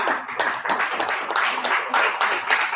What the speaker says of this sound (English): big clap for her.